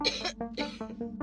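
A woman coughs in a quick series of about four or five short, close hacks, each bursting out in rapid succession with brief gaps and no other sound.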